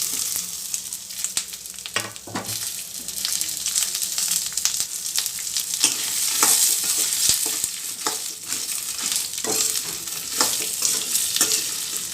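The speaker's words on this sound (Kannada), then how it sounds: "ಇದನ್ನೆಲ್ಲ ಸೇರಿಸಿ ಚೆನ್ನಾಗಿ ಫ್ರೈ ಮಾಡ್ಕೋಬೇಕು" Onion, garlic, tamarind, cumin, pepper and dried chilies sizzle and fry in a hot pan with steady crackling and repeated scraping stirs, close and continuous with no talk.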